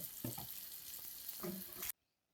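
Surmai fish fillets fry in a little oil on a tawa, a bright close sizzle with a few scraping knocks, cutting off abruptly into near silence.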